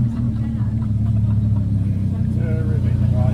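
A car engine idles steadily after being started, a loud continuous low rumble running throughout with a faint whine rising near the end.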